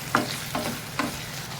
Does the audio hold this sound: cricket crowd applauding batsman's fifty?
no